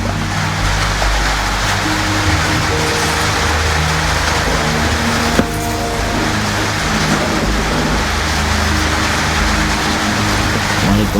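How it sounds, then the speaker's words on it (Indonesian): Steady, heavy rain pours down throughout, a dense continuous hiss with a low rumbling undertone and no pauses. "Nggak terganggu sama hujan."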